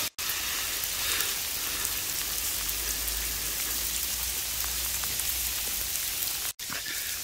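Steady rain falls close by, a dense continuous hiss of drops on surfaces, with a brief cut near the start and another near the end.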